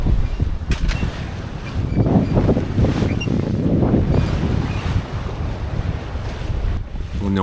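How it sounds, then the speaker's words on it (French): Wind rushes steadily with the low wash of waves around a sailboat at sea during a night crossing, a continuous near roar with no voices. "Le bruit des vagues, le vent."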